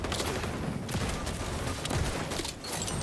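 Shotgun fire in the XDefiant shooter game: dense, rapid blasts pile into a continuous barrage of gunfire at close range, loud throughout with brief dips between bursts.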